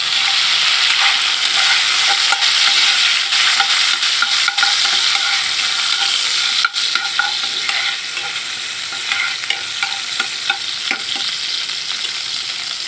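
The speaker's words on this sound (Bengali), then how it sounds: "পেঁয়াজটা ভালো করে ভেজে নিব" Chopped onions frying in hot oil for a small-fish curry, a loud close sizzle with steady scraping and stirring of a spatula against the pan throughout, no speech.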